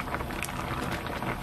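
Clam knife-cut noodle soup boiling in a 1.8 L pot, a steady, close, dense bubbling hiss with no voices.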